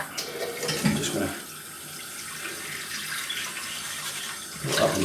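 Tap water running from a faucet to wet a badger-hair shaving brush, a close, steady splashing stream with brief louder gushes at the start and end.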